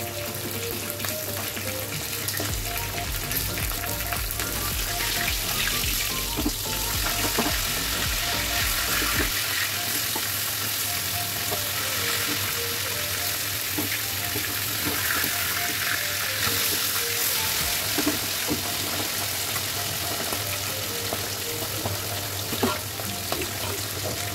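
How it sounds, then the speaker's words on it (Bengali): Fish pieces marinated with salt, turmeric and chilli powder fry in oil, a continuous close sizzle and crackle with faint stirring and a low background hum. "এবার আমি ভাজা বসিয়ে দিয়েছি।"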